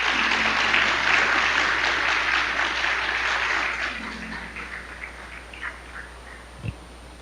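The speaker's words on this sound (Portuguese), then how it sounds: "Então dá uma salva de palmas ao Senhor" Church congregation claps, a lively burst of applause that is loud at first then thins out over several seconds to scattered, isolated claps.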